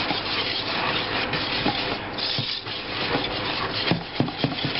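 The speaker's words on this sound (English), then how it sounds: "Just work the whisk onto the side of the bowl as I'm doing, and that'll work the lumps out of it" A whisk scraping and rubbing lumps out of waffle batter against the side of a bowl, a steady close rasping with a few louder taps near the end.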